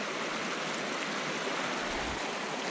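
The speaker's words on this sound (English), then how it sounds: "It's like raging water" Rushing river water roars steadily and close, a dense broadband wash with no break, while a person on a bike tries to cross the current.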